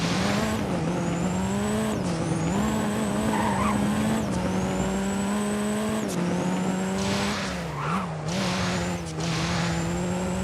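KTM X-Bow GT4 race car engine in the Driving Empire video game, a loud steady high-pitched whine that rises through gears with brief dips at each shift, tyre squeal mixed in, alone with no talk.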